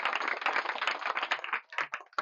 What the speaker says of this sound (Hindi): आप लोग तालियों से स्वागत कर दीजिए